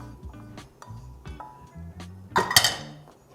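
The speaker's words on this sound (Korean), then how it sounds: "넓은 접시에 덜어내어서" Glutinous rice flour paste for napa cabbage kimchi is scooped out onto a wide plate, giving a run of close, bright clinks and scrapes of utensil against dish that build into a louder clatter near the end.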